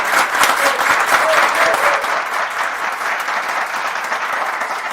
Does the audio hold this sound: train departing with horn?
no